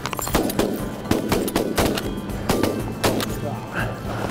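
Shotgun shots during a duck hunt on the Kansas grand prairie: a rapid volley of overlapping blasts from several guns, loud and close outdoors, with voices mixed in.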